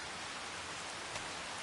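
Rain falls in the farming game Kinlaig, a steady, even hiss of downpour with no break or other sound.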